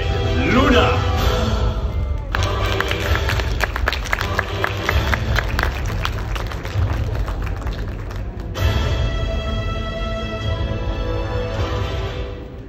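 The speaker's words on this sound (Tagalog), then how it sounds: "Maraming salamat po sa lahat ng pumalakpak." An audience at a motivational speaking event in the Philippines applauds loudly and steadily for several seconds. A voice speaks over the clapping partway through.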